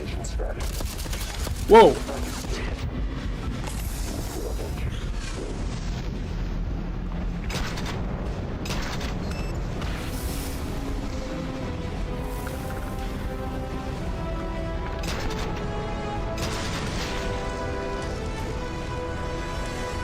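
Gunfire from a weapon in a first-person video game, scattered shots and impacts over a busy background of game sounds and music, with one sharp loud burst early and a voice reacting briefly.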